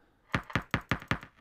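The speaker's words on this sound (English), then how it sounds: "just a random rim shot sound I found" A rim shot drum sample in a beat, struck five times at an even, steady pace. Each hit is sharp, dry and close, and nothing plays underneath.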